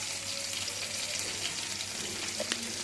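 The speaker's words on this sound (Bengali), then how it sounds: "এবার আমি এর মধ্যে একটু কালো জিরা ফোড়ন দিয়ে দিলাম, আধা চামচের থেকেও কম" Nigella seeds crackle and sizzle in hot oil while tempering for a pabda fish curry in mustard and poppy-seed sauce, a steady, close frying hiss with a few small pops.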